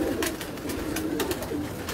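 Pigeons coo steadily from a rooftop loft, a continuous low warbling chorus of several birds close by, with faint rustling and broadband background noise throughout.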